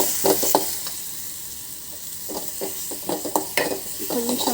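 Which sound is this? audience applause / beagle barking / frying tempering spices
frying tempering spices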